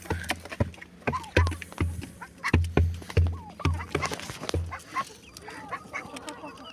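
Domestic turkeys on a farm call in a run of short, loud gobbling clucks, about a dozen evenly spaced bursts close by, fading into softer clucking and background bird chatter toward the end.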